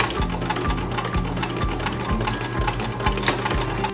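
A sewing machine stitches magnet pockets into custom window curtains for a camper van, with rhythmic bursts of needle clatter in quick repeated runs, close up.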